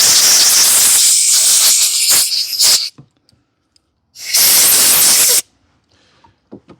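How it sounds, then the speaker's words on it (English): Compressed air blasts through the carburetor of a Kohler Courage engine from a Husqvarna riding lawn mower, in two loud, close hissing bursts separated by a quiet gap, with faint clicks and handling noises afterward. "I'm gonna blow this out with some air."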